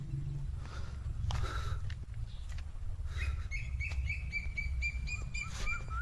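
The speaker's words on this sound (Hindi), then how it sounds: "तो अब ये बत्तख उड़ चुकी हैं खेत में से" Ducks in a rice paddy field, with bursts of chirpy calls and quacks over a steady low rumble of outdoor noise, several calls clustered toward the end.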